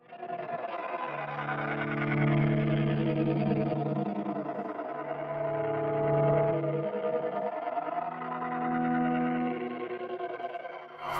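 Sustained guitar notes through a Mooer Ocean Machine delay and reverb pedal swell and echo, layered chords ringing into each other with a washy, shimmering tail.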